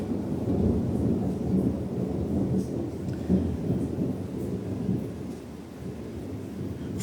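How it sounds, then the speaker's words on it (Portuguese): Thunder rolls in a long, low, continuous rumble with a few swelling peaks, heavy and steady throughout, with rain faintly underneath. "Inclusive, foi ele que fez cair esse trovão."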